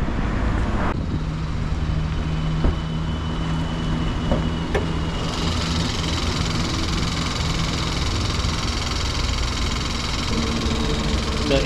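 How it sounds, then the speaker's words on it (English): A steady, low engine hum with road noise from a 2025 Hyundai i20 N Line N8 manual car while driving, continuous and moderately loud, with no voices. "The engine is not that loud."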